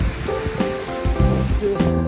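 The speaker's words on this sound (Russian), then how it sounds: "Ну, вода еще шумит." The Lachine Rapids at Lasalle rush steadily in winter cold. The broad, constant water noise is heard from nearby, with a faint tonal hum running underneath.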